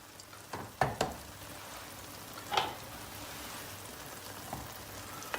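Eggs cooking in a pan with a soft, steady sizzle, broken by a few faint clinks and scrapes as a spoon gently nudges them loose from the edges.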